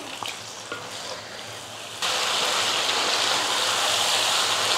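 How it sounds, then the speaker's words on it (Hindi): Gravy and chicken stirred in a pan over a high flame for biryani, with scraping and a loud, dense sizzle that jumps up sharply partway and holds steady, no talking. "फ्लेम थोड़ा हाई करते हैं, ग्रेवी और चिकन को अच्छे से मिक्स कर लेते हैं।"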